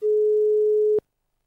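A mobile ringtone made to resemble a telephone dial tone sounds as one steady, loud pure tone for about a second, then stops sharply, in a 2007 German TV commercial.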